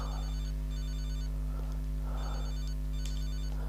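A telephone rings in GTA Liberty City Stories, its electronic trill repeating in several short bursts over steady game hum and low drone, with no talk.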